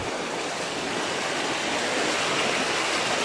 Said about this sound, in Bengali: মেন রোডের উপরে কিভাবে জল ঢুকছে